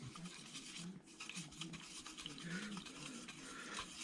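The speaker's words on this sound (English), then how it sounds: "I'm going to take a little smaller brush, and that's a number 2. And I'll get in here and stir it up." A number 2 paintbrush stirs paint in a small container, giving a steady close-up scratchy swishing and rubbing that runs without a break, with light scraping against the sides.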